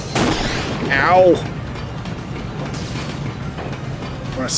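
A cannon in the video game Zwei: The Ilvard Insurrection fires during a boss fight, a booming blast with sweeping whistling tones near the start, followed by quieter game noise.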